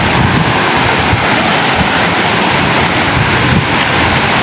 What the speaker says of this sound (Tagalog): Yun, malakas yung alon.